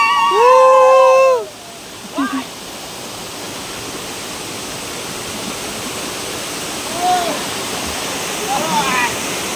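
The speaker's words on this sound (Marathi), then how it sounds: "तर हा असा धबधबा आहे मानगावचा आमचा" Steady broadband rush of a hidden waterfall near Mangaon in the Konkan countryside, constant and fairly close throughout, with brief vocal sounds near the start and faint voices later.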